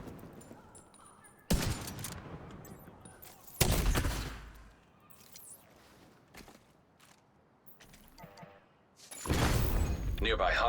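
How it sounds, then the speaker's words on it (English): Video game gunfire, heard as several sharp, loud bursts of rapid shots, one near the start, one a few seconds in and one at the end, with quieter scuffling between and a voice talking now and then. "Stop shooting me."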